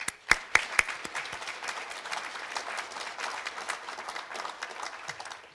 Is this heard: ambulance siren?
no